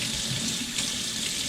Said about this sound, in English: the teaspoon just seems to focus the water on every part of the sink.